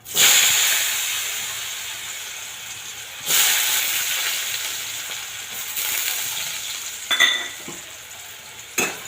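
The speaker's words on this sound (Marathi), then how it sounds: "तेल चांगलं गरम झाले की आपण बटाटा परतून घेणार आहोत." Potatoes fry in hot oil in a pan with a steady, loud sizzle and hiss, swelling in bursts as they are stirred and tossed, plus a few brief clinks near the end.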